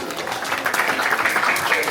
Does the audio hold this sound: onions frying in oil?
no